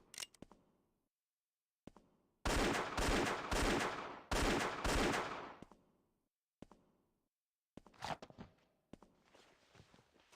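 Gunfire from the video game Indiana Jones and the Infernal Machine: dense, loud volleys of shots over about three seconds, with scattered quieter impacts and footsteps before and after.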